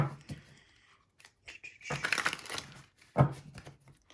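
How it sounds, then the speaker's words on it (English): Tarot cards being shuffled during a pick-a-card reading, heard as bursts of crisp crinkly riffling and slapping card noise, with a sharp louder knock near the end. "let's go ahead and see what pops up in tarot and give it a good shuffle"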